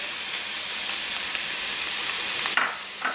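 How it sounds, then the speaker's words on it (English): Garlic sizzles steadily in a hot pan over medium heat while mapo tofu is being made, a dense, continuous frying hiss that stays close and loud for the whole stretch, with a brief stir or clatter near the end. "We're going to add our garlic into it."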